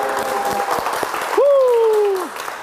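A short burst of clapping greets a trot singer's announcement that he is the new model for a hwangchil makgeolli. Partway through, an electronic whistling tone swoops in and holds over the fading applause.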